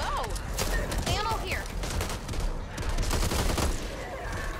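Rapid gunfire in the co-op shooter video game Back 4 Blood, sustained bursts of shots mixed with game effects and whooshes, under players talking over it.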